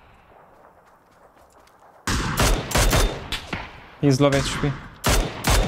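PUBG gunfire bursts in after a quiet start: rapid cracking shots and short automatic volleys, loud and close, with a player's voice talking briefly between them.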